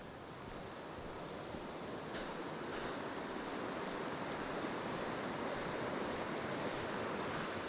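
Two small creeks run together where their waters meet on a bushwalk toward Lake St Clair near Mount Hugel, giving a steady, close rushing of flowing water with no other sounds and no talking.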